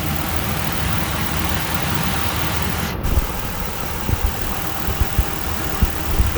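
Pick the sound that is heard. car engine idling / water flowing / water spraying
car engine idling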